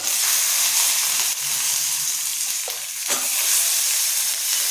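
Ten small shallot-type onions sautéing in a pan of oil with dried red chillies for a pirandai chutney, giving a loud, steady broadband sizzle with a brief scrape or clink of stirring midway.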